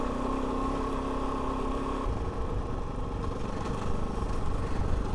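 A Kove 450 Rally motorcycle engine hums steadily on a trail ride, a continuous low rumble with a faint tonal drone that fades after the first couple of seconds, with no talking.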